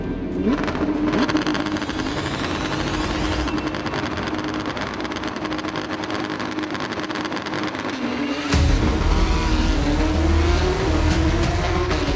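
Porsche 911 GT3 Cup race cars howl past at speed on the Dubai Autodrome circuit, engines revving continuously and loudly, with a deeper, louder car surging in near the end.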